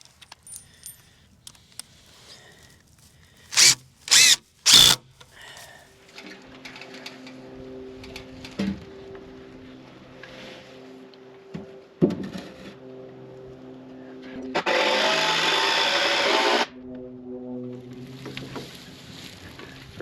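A power driver whines in a sustained burst as it drives lag screws into porch posts of a post frame home, preceded by a few sharp knocks and a low tonal hum nearby.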